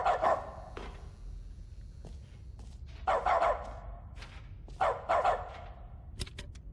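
A dog in The Stanley Parable: Ultra Deluxe barks in short clustered bursts, three or four distinct yapping volleys spaced a second or two apart over a low hum, moderately close and with no talk.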